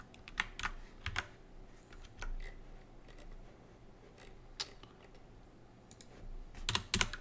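Keys clatter in uneven bursts of typing on a computer keyboard, close and moderately loud, with short pauses between runs and no voices.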